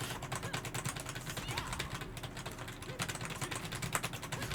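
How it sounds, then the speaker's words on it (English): Rapid, steady clatter of keys being struck on a computer keyboard while playing Tekken 8 on PC, close up, with faint background sound underneath. "You can hear my keyboards, can you?"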